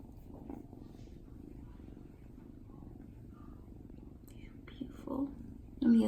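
A black cat purrs up close in a steady low rumble, with soft talk and brief movement noises near the end.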